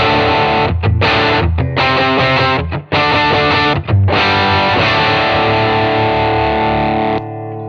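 An electric guitar plays through a Suhr Riot overdrive pedal capture on a TONEX pedal, loud, gritty chords with brief gaps between strums, ringing out then cutting off at the end.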